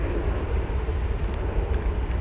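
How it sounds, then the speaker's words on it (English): Airbus A321 Neo arriving from Seattle and landing at DFW Airport, a loud continuous engine roar with a heavy low rumble, steady and close, with no talk. "Coming in from Seattle, an Airbus A321 Neo."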